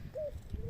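Turtle doves in an aviary give two soft coos, a short one and then a longer drawn-out note, heard close with no voices.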